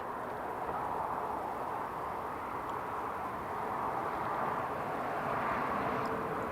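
An easyJet airliner passing at Newcastle International Airport gives a steady, moderately distant jet roar, a smooth broadband hum holding level without voices.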